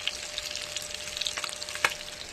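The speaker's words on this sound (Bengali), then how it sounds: "এদিকে মাছ ভাজা হচ্ছে" Soft fish frying in oil in a pan in a home kitchen, a quiet steady sizzle with a few sharper crackles and pops close by.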